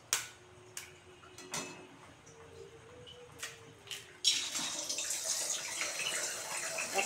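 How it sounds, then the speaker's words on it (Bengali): Eggs are cracked one by one into a cooking pan with a little oil. A few sharp clicks and taps come first, then a loud, close, continuous sizzle takes over. "এবার আমি একটা একটা করে ডিমগুলো দিয়ে দেবো ফাটিয়ে ফাটিয়ে।"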